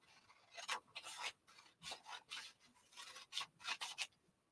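Fabric for a trouser leg is folded and smoothed by hand, giving a series of soft, close rubbing and rustling swishes in irregular bursts with quiet gaps between them.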